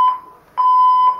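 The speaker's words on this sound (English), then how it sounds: "The noise that you're hearing is the fire alarm testing." A fire alarm sounds during a test: loud, piercing electronic beeps in a steady on-off pattern, three pulses with short gaps, no voices.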